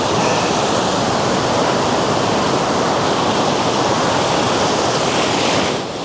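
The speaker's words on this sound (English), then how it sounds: "And this is Copacabana Beach." Atlantic Ocean surf at Copacabana Beach in Brazil roars in a loud, dense, continuous wash that holds steady before easing slightly at the very end.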